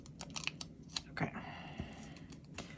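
Red-handled scissors trim a paper page of a planner at a desk, giving a few crisp, close snips and clicks with no talking.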